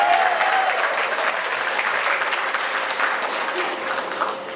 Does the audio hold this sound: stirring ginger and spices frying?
no